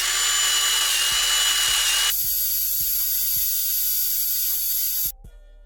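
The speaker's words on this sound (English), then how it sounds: "Wire wheel, drill," A drill fitted with a wire wheel brush whirs loudly with a harsh buzzing grind, first rough and heavy, then a steadier higher whine, cutting off near the end.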